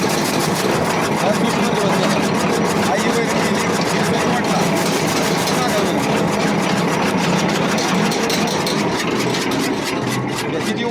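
A galvanized fodder chaff cutter with an iron wheel and high-carbon blades runs on a farm, chopping fodder into pieces of about 12 to 15 mm; its loud, continuous mechanical drone goes on steadily while people talk over it.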